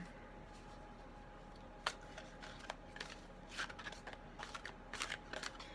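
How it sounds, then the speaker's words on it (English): A deck of cards being shuffled by hand during a card reading, a faint run of quick riffling snaps and flutters in short bursts, close and quiet with no talk. "I shuffle live so that you know I'm not, stacking any decks"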